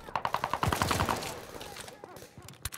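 Rapid automatic gunfire in Call of Duty: Vanguard, a fast burst of close, loud shots followed by scattered further shots, with a voice speaking over the action.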